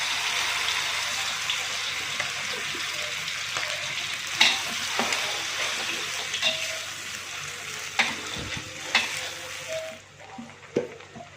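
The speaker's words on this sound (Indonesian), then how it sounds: "Kemudian masukkan bumbu yang dihaluskan." Ground spice paste for Aceh-style mie goreng sizzles and fries steadily in a pan, a close, continuous crackle broken by a few sharper stirring clinks and scrapes, with no talking.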